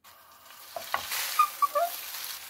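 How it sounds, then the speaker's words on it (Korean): Glass noodles stir-fried in a generous amount of oil in a pan for japchae, giving a soft, steady sizzle with a few scraping stirs and light clinks, close and moderately quiet, with no talking. "당면을 볶아주겠습니다"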